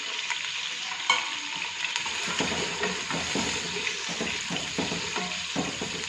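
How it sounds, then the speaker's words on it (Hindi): Ginger and garlic cloves fry steadily in a pan for a dhaba-style chicken handi, giving a continuous close sizzle broken by irregular scraping stir strokes, with no talking. "सारी चीज़ों को पहले फ्राई करेंगे।"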